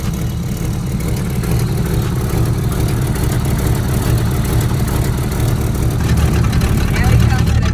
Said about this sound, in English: Now we come to the back of the car where you can hear the cam